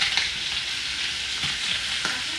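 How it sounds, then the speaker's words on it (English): Cheddar cheese frying in a frying pan gives a steady, close sizzle with soft crackles throughout, no talking over it. "You're putting cheddar cheese in a frying pan."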